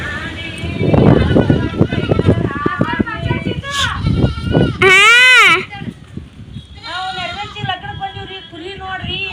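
Sheep bleat in front of a house at a North Karnataka wedding gathering, a few clear wavering calls rising over nearby chatter and children's voices, with people talking throughout.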